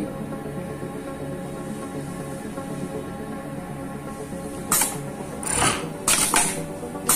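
A Pegasus W600PC flatlock sewing machine runs with a steady mechanical whir and hum, then a few short, louder bursts of clatter near the end; no voices.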